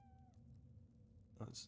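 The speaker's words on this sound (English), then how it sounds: "What an adorable cat." A cat in Pillars of Eternity gives a single short, fairly close meow near the end, following a stretch of quiet game ambience with a low hum.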